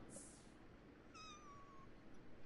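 A cat in The Sims video game lets out one drawn-out, clear meow in the middle, heard over a quiet background, with a short high chirp just before it.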